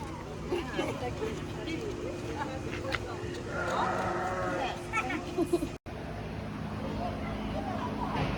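Sheep bleat repeatedly at close to moderate distance amid a noisy outdoor scene at Disney's Animal Kingdom, with people talking in the background.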